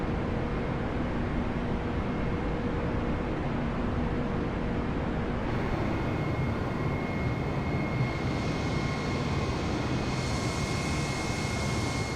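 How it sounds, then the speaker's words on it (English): Simulated Airbus A320 in Microsoft Flight Simulator 2020 lifting off and climbing, a steady, loud, broad engine roar that holds constant and slightly brightens partway through, with no talking. "She's lifting the nose and continuing her climb now"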